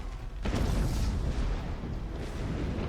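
Mortar fire in the ship-combat video game Abandon Ship: a loud, close boom erupts after a short lull, then gives way to a sustained heavy rumble of continued bombardment.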